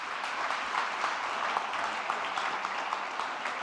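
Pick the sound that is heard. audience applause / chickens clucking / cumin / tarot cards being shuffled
audience applause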